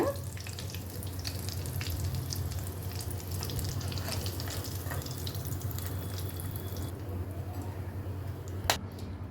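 Chana dal suyyam sweets deep fry in oil, giving a continuous, even bubbling hiss from start to finish, with a single sharp click near the end.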